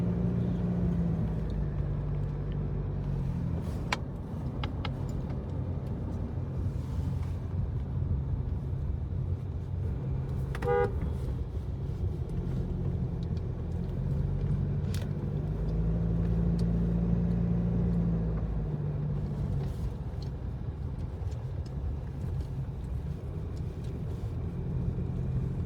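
Steady engine and road rumble inside a moving Toyota Fortuner with a 2.8 litre engine, a constant low drone with faint interior clicks and ticks, no talk.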